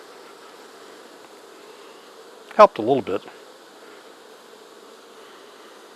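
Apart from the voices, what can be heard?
honey bees buzzing on a beehive frame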